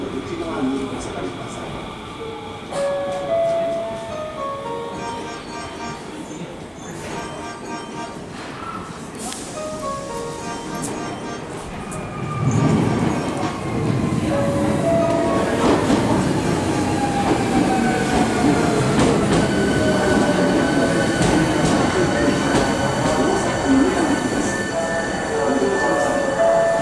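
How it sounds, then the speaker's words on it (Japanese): A Hankyu 7300 series train rumbles into Awaji station with rising wheel squeal and screeching, while a recorded Japanese announcement plays over the noise. "電車が到着します"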